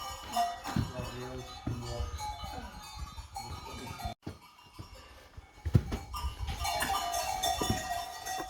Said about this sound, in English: And still the goats.